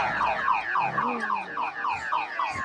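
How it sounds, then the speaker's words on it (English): A car alarm in the film Mighty Joe Young wails in rapid repeating electronic warbles, loud and steady for several seconds with a low rumbling sweep partway through. "We learn that he hates car alarms as much as the next person."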